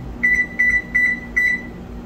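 Oven control panel being started for a 400-degree bake of cornbread muffins, giving four short, clear electronic beeps at an even pace over a low background hum.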